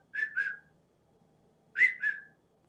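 A person whistles in imitation of a rising-and-falling call thought to be a Sasquatch signal: two clean, two-note up-down whistles, separated by a second of near silence, fairly close and alone.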